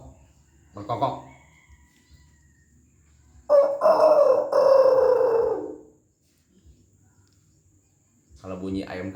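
A man vocally imitates an Ayam Bangkok rooster crowing, one long strained, wavering call of about two seconds, close and clear, with short bits of his own talk before and after.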